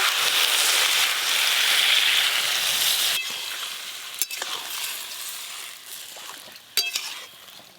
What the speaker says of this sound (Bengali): ভেজে রাখা চিংড়ি মাছ, এবার জল দেব।